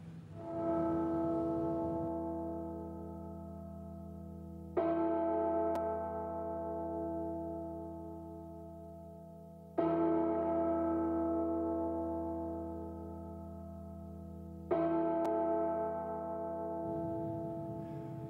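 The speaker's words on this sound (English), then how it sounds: "It's time to sound the bells." Bells ring out at Kingaroy Speedway ahead of a modified sedans A-main race: four loud, resonant strikes spaced about five seconds apart, each leaving a long, slowly fading hum with no talk.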